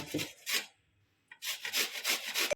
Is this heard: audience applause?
no